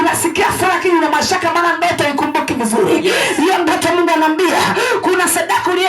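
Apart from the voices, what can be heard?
No everyday noises stand out.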